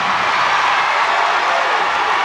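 A high school basketball championship crowd in 1991 cheers and applauds in a steady, loud wash of noise for a couple of seconds.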